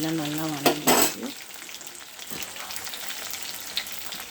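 Eggplant, tomato, garlic and onion sautéing in a pan: a burst of stirring clatter and sizzle near the start, then settling into a quieter continuous frying hiss.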